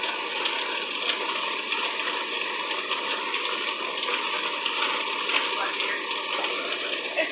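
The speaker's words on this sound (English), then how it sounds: "It's raining badly." Heavy rain pours down in a thunderstorm in Houston, Texas, a steady, dense wash of noise that holds for the whole stretch with a voice speaking faintly over it.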